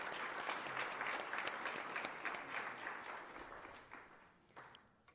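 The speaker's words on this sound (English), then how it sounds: "we could take a moment to clap" An audience claps together in sustained, dense applause for elected officials, steady and fairly loud at first, then gradually thinning and fading toward the end.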